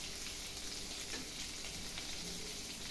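Onions sautéing in a pan, a steady, even sizzle with faint crackles, moderately close and quiet, with no talking.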